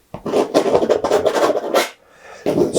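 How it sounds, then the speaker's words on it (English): A palette knife spreads medium yellow paint across a painting in close, rhythmic rasping scrapes, a short pause, then another scrape. "get my palette knife, just put some medium yellow on"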